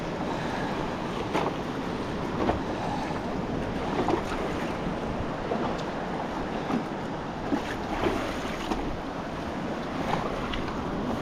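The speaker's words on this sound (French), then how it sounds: "il y a quelques vagues" Ocean waves roll around a small boat at sea, a continuous wash of surf and wind with periodic swells and splashes, no voices.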